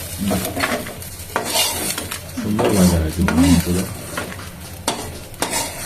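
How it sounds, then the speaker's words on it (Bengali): Oil sizzles steadily in a pan as small mourala fish fry with onion and green chilli, with occasional scraping and clinks of a utensil against the metal. "ছোটো মাছ মুরলা মাছ ভাজা একটু পেঁয়াজ আর একটু কাঁচা লঙ্কা"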